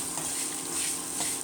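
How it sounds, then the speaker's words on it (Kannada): Amla frying in oil in a pan makes a soft, steady sizzle with crackling and light stirring, quiet and close throughout. "ಈಗ ಇನ್ನೊಂದು 1 ನಿಮಿಷ ಈಗ ಎಣ್ಣೆಲೆ ಹುರಿಯೋಣ. ಎಣ್ಣೆಯಲ್ಲಿ ಫ್ರೈ ಆಗ್ತಾಯಿದೆ."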